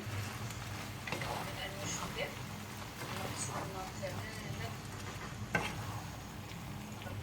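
Rice stirred into a sizzling paella pan, a steady soft fry under a low background hum, with occasional scraping strokes and one sharper knock near the end; a person speaks quietly at times.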